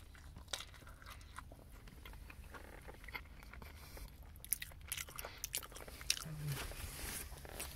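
A Breakfast Baconator from the Taco Bell breakfast menu, made with sausage, is bitten and chewed up close, with soft crunches and wet, irregular chewing sounds and no talking.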